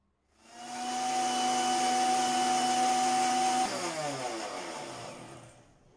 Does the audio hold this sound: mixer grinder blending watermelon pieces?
yes